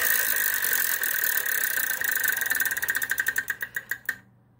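A Wheel of Fortune prize wheel spinning on the game show set, its clicking starting fast and blurred, then slowing into distinct ticks that space out before stopping abruptly.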